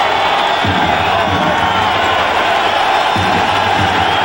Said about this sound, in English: the crowd getting into it here